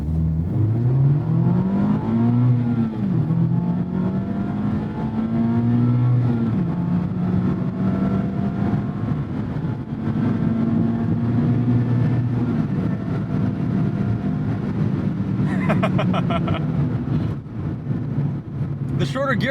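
A 2024 Mazda ND3 Miata pulls hard through its short gears, its engine note rising in pitch, dropping at each shift and climbing again, with steady road and cabin noise and someone talking over it.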